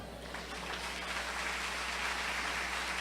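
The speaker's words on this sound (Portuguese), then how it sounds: "Diga glória a Deus e aplauda ao Senhor." Church congregation applauding during a worship service, a dense, even wash of clapping from many hands that starts softly and holds steady, heard at a moderate distance.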